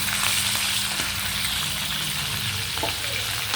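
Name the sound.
frying food splattering in oil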